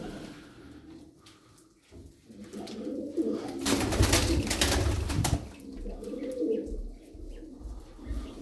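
Pigeons kept for sale coo in low, repeated rolling calls, with soft chirps and a burst of rustling or wing flapping midway through, heard close and without talk.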